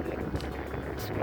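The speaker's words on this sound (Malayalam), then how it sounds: "അതേ കൂടെ ഒരു സ്പീഡ് ബോട്ട് ഓടിക്കൊണ്ട് പോകണ കണ്ടോ?" A speedboat runs across a lake near fishing nets, giving a steady, continuous low engine rumble mixed with wind noise on the microphone and no clear voices.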